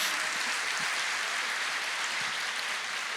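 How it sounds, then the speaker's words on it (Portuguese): Applause from a church congregation during a sermon, a steady broadband wash of many hands clapping at moderate level throughout, with no voices over it. "Pode aplaudir."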